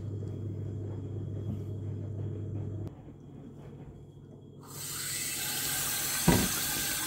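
Tap water runs steadily into a sink during washing, a low rumbling hum fading before a bright full gush of flowing water starts and continues, with one brief clunk near the end.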